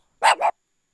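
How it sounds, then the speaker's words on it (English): Dog gives a sharp double bark, close and dry, two quick bursts within half a second followed by silence; used as raw material for a dragon roar effect. "That's from the second bark."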